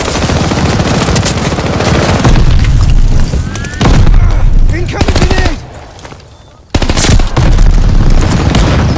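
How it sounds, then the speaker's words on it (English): Grenade blast amid heavy automatic gunfire in the WWII shooter Call of Duty Vanguard, with booming explosions and rapid machine-gun bursts throughout, a brief near-silent dip, then loud combat resuming; game voices call out over the din. "Incoming grenade!"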